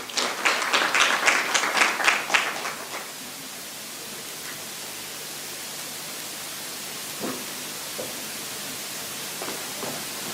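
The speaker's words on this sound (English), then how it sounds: "A round of applause for him, please." Applause at a Future of Work Summit conference, a dense burst of clapping for about three seconds that cuts off into quiet room hiss with a few faint scattered sounds.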